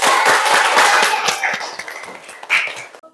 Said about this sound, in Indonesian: Berikan tepuk tangan yang meriah kepada kelompok